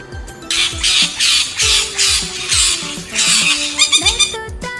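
A parrot squawks loudly and close, giving a rapid series of about eight harsh, raspy calls in a steady rhythm with no speech over it.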